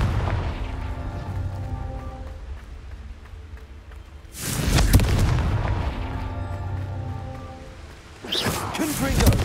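Two booming blasts from the Confringo fire spell in a video game, the first erupting around midway and the second near the end, each loud and broad over a steady musical backdrop.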